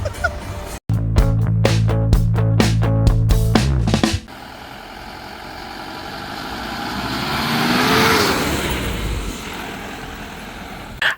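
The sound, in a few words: arriving vehicle, likely a Mahindra Bolero jeep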